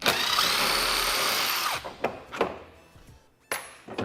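A power driver whirs continuously, then stops, followed by a few short clicks and rattles as screws come out of the lower dash of a Can-Am Defender utility vehicle, all close up with no talk.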